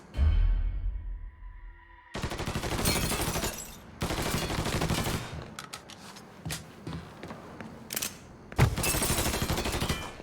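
Gunfire in the video game Mafia 3 sounds in dense, rapid bursts of automatic fire and scattered single shots, loud and close, with short lulls between volleys after a low rumble at the start.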